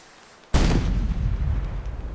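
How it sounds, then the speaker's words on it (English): A cannon in the Lost Lands 4 video game fires a cannonball with a single sudden loud boom that rolls on as a sustained rumbling roar. "Is this how a cannon really works?"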